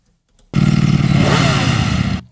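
A loud, close engine rev surges in after a moment of silence, a sustained throaty roar that rises and then cuts off abruptly, used as a sound effect for a cut in an edited scene.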